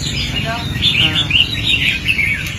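Bright caged red-whiskered bulbul chirps and short warbling phrases repeat over a steady background hum, fairly close and clear, with no talking.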